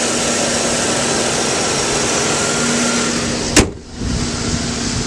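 A 2002 Pontiac Grand Prix GT with a 3.8 engine runs at a steady idle, a close continuous hum broken by one sharp click and a brief dip near the end.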